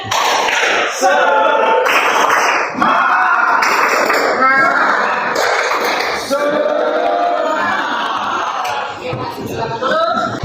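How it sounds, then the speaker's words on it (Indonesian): Students standing in a classroom perform a rhythmic spirit clap as an ice-breaker. Loud, patterned bursts of clapping repeat in regular blocks, with voices chanting along throughout. "tepuk semangat"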